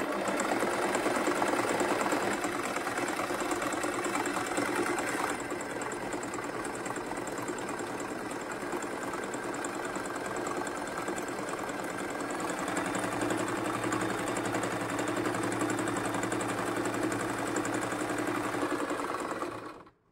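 A Singer M3505 sewing machine runs steadily while stitching a decorative pattern, giving a loud, even mechanical whir with rapid rhythmic needle clatter that continues throughout and then stops abruptly at the end.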